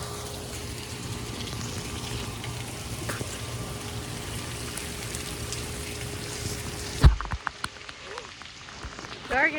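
Rain falling during tropical storm Harold, a steady hiss of drops on surfaces that cuts out abruptly, followed by a few handling thumps and brief voice sounds.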